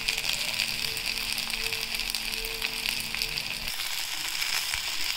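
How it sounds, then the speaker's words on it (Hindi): Small eggplants fry in hot oil in a pan, a steady close sizzle and crackle with faint low clinks in the background, no talking. "बैंगन हमारे फ्राई हो चुके हैं"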